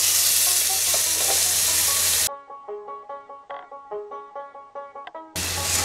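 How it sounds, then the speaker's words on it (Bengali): Potatoes drop into hot oil with panch phoron, dried red chillies and a bay leaf, giving a loud steady sizzle. Midway the frying cuts out for a stretch of clinking, rhythmic tapping, then the sizzle returns. "ফোড়নটা আমার ভাজা ভাজা হয়ে আমি আলুগুলো ছেড়ে দিচ্ছি।"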